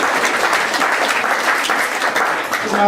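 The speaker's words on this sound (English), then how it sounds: "give them another round of applause" A round of audience applause for performers at a jazz show, loud and steady throughout, a dense wash of clapping with no voices over it.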